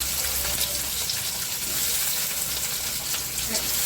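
Nigella seeds (kalo jeere) sizzling in hot mustard oil, a steady, dense crackling hiss that holds loud and even throughout with no talk over it.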